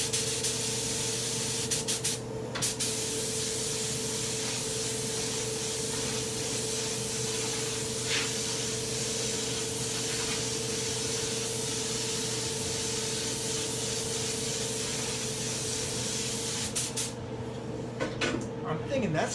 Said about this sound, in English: So I'm gonna lay down another coat of paint on this